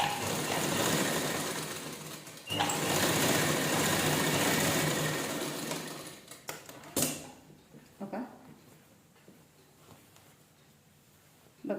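A sewing machine stitches a sleeve onto a top, running in a loud, dense mechanical whir for about six seconds with a brief pause, then stopping into quiet with a few faint handling knocks.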